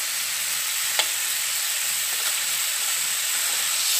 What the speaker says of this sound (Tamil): பெரிய சைஸ் வெங்காயத்தில் 3 வெங்காயம் போட்டிருக்கேன்